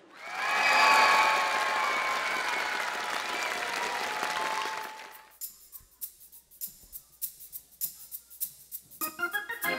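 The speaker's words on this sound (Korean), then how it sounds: "다 같이 박수." An audience at a school teacher-and-student concert applauds loudly for about five seconds with some cheering, then the clapping cuts out into quieter, sparse sounds.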